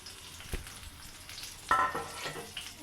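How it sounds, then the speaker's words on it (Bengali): Chopped onion and garlic frying in hot oil for a dried-fish dish, a soft continuous sizzle with a few sharp stirring clatters, close but fairly quiet. "তেলটা গরম হয়ে গেছে। আমি এখন পেঁয়াজ কুচি আর রসুন কুচি"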